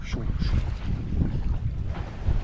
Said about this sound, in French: Un petit vent, 8 nœuds, on avance à la voile.